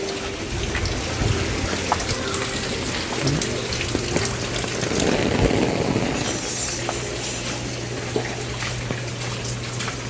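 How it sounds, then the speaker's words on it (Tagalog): Heavy rain pours down steadily, a dense continuous hiss of drops on surfaces with some low rumbling water underneath, loud and unbroken throughout. "Lakas ng ulan, buhos na yun."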